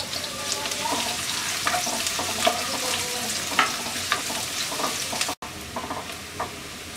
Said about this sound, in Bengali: পেঁয়াজটাকে আমরা হালকা ভেজে নেব।